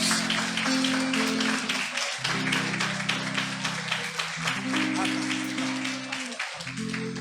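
A church congregation claps together during a Sunday service, steady rhythmic applause spread through the room under sustained organ-like chords and faint voices.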